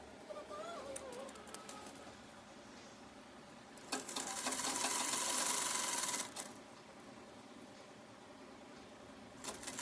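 Sewing machine stitching a trouser hem, a brief whirring run of about two seconds after a few scattered clicks and handling sounds, close, with faint background noise.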